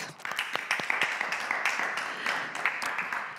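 Dense applause from a conference audience at an artificial intelligence event, continuous clapping with sharper individual claps standing out, steady and fairly close throughout.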